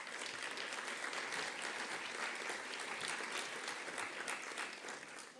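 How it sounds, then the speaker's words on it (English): An audience at a panel discussion on health systems and the environment applauds steadily, a dense, even clapping that fades slightly at the end. "please give her a round of applause."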